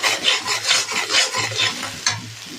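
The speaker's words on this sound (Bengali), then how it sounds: "এবার তেলের মধ্যে আমি দিয়ে দেবো আদা, কাঁচা লঙ্কা পেস্ট, লবণ" Ginger, green chilli paste and salt fry in oil while a spatula scrapes and stirs them in rhythmic, close strokes, each rasping pass laid over a soft sizzle.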